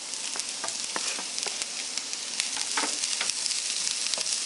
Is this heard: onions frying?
yes